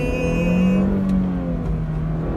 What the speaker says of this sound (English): Driving the motor to 3000 rpm and here we leave